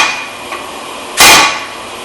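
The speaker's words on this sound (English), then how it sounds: "These screws here, just take a driver or any kind of, and hit them nice and sharply." A single sharp, loud metallic strike as a driver is hammered against a brake rotor screw on a 2012 Honda Accord, ringing briefly after a quiet stretch with faint hiss around it.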